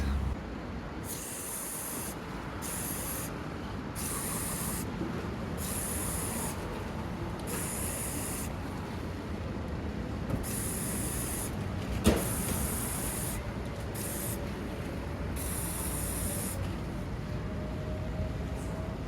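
Cleaner sprayed onto an oily car MAP sensor in a series of short, sharp hissing bursts of uneven length, repeated close up over a faint steady background hiss, with no talking.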